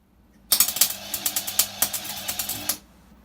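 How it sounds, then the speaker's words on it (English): Tack welding on a scrap steel luggage rack for a motorbike, a close series of sharp crackling pops in quick irregular rhythm lasting about two seconds, then stopping. "Tack welding complete, at least on that one."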